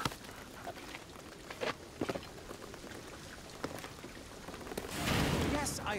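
Steady rain in the video game Shadow of the Tomb Raider patters and hisses across surfaces, with scattered sharper drops and a heavier surge near the end, mixed with faint game ambience.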